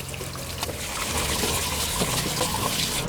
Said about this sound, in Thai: เสร็จแล้วเราก็ล้างน้ำเปล่าครับ